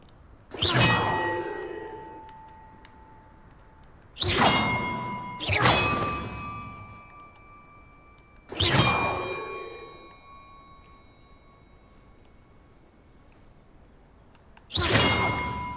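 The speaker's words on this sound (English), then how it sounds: "Perhaps the map contains clues about the order I'm supposed to ring the bells in." Large bells in the game Hogwarts Legacy ring out in single clangs, five struck strikes spaced unevenly with long shimmering decays between, loud and alone.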